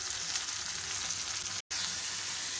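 Half a kilo of minced meat sizzles steadily as it fries and is stirred in a pan, a close, continuous crackle with a brief cut-out partway through.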